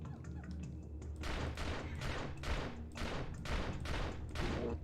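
Turok: Dinosaur Hunter gunfire: after a quieter start, a burst of about five evenly spaced, loud shots rings out, each with a short decaying tail.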